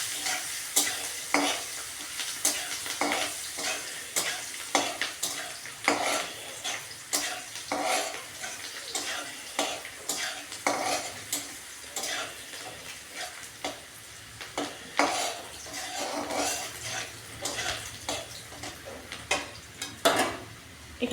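Vegetables with a little turmeric frying in a pan for a quick fried noodle dish, heard as a quiet, steady sizzle broken by repeated stirring scrapes and light utensil knocks against the pan.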